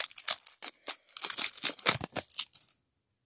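Packaging on a Pokémon Ultra Premium Collection Charizard card box being opened, with close crinkling and ripping of plastic and cardboard in quick bursts that then stop.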